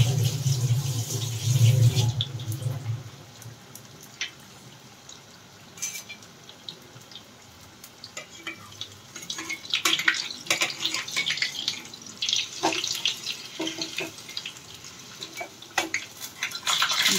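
Kitchen tap running into a sink during home cooking, with a brief louder gush at the start followed by quieter trickling, splashes and clinks of dishes and utensils.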